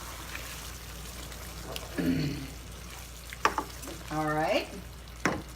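Red pepper flakes are stirred into a spicy vegan pasta sauce in a pan, giving soft, intermittent scraping and a low sizzle, with brief speech and a hummed murmur between the stirs.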